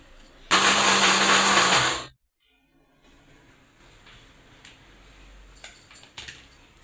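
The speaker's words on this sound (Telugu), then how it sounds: "ఇప్పుడైతే పౌడర్ మిక్సీ పట్టేస్తాను." Mixer grinder grinding idli karam powder: a loud, harsh motor whine with gritty rattle runs for about a second and a half, then stops abruptly, followed by quiet kitchen handling clinks.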